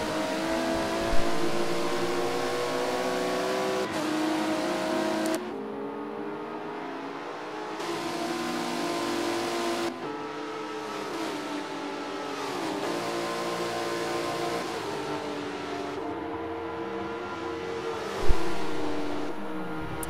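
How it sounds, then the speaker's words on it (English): Prototype race car engines in a racing video game at Homestead, loud and steady at high revs with gear shifts and pitch changes, cars passing close by; no talk. "just now exiting the hairpin as Scottson gets onto the back straightaway"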